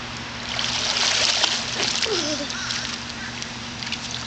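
A child swims and splashes in water, a steady broadband wash of splashing and trickling with a brief higher squeal partway through, fairly close and continuous.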